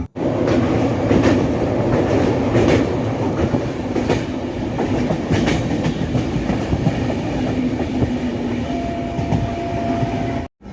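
A passenger train rumbles steadily along the rails near Sambalpur station, with rhythmic clickety-clack of wheels, loud and continuous throughout, no voices.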